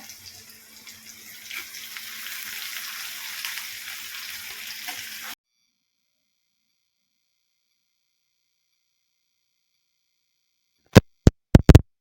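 Curry leaves, green mango, green chili and tomato hit hot oil in a pan, giving a loud, rushing sizzle for about five seconds before cutting out, with a few sharp clicks afterward.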